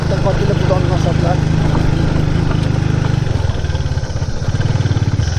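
A motorcycle rides a narrow road toward Sulikot near Dharan, its engine chugging steadily and close throughout, with faint voices under the noise.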